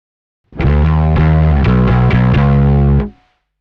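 Distorted bass guitar notes through a Rowin noise gate on its fast setting ring out for a few seconds, starting abruptly and cutting off cleanly at the end with almost no hiss afterward.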